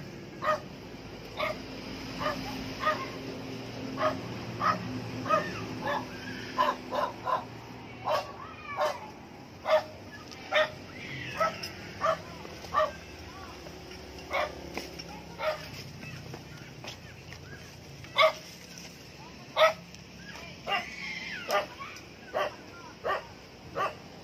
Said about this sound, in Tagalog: Dalawang aso.